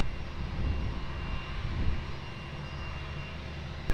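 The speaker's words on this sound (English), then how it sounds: "runway 20, clear for takeoff." A jet airliner takes off from runway 20 at Lisbon Airport, a steady loud engine roar with low rumble holding throughout, no voices.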